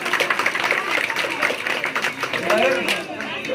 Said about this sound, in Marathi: त्यांच्यासाठी सर्वजण जोरात टाळ्या वाजवा